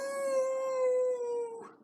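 A single drawn-out voice imitating a coyote's howl, a sustained clear wavering tone that falls slightly and breaks off at the end, heard alone.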